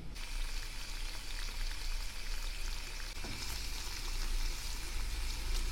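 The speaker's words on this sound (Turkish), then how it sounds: "Soğanlarımız sotelenmeye başladı." Chopped onions sauté in a hot pan with a steady, close sizzle and crackle that holds without a break. No one speaks over it.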